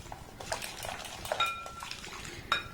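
A spoon stirs rice flour into milk in a metal pot, making quiet scraping swirls punctuated by a few light clinks against the side.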